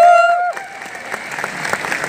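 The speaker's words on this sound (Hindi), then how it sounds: "एक जोरदार ताली रामनारायण प्रजापति सर के लिए।" A crowd at a large DMPL gathering breaks into applause for a speaker. A sustained dense patter rises as an amplified tone fades, with cheering mixed into the clapping.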